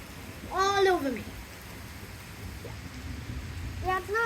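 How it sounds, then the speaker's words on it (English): Heavy rain pours during a thunderstorm, a steady hiss filling the whole clip while a voice speaks over it near the start and again at the end. "the raindrops are literally like 1 foot long"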